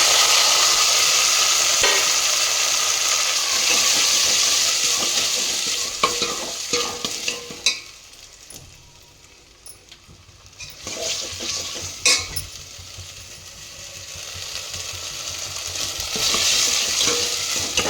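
Curry leaves and chopped tomatoes frying for rasam, a bright steady sizzle broken by repeated scraping and clinking of a spoon against the pan as it is stirred, dipping quieter midway before swelling again.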